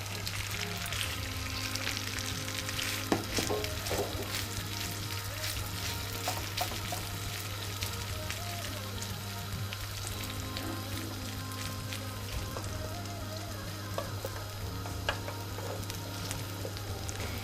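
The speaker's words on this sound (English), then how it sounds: "So now we're frying the Kookoo Morgh chicken frittata." Steady oily sizzling of Persian chicken frittata (kookoo morgh) frying in oil in a pan over high heat, with faint crackles and a low hum underneath, continuing evenly throughout.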